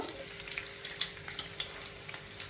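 Cashews and spices fry in hot oil in a kadai, a faint, steady crackling sizzle with a few tiny pops and light stirring ticks, heard alone.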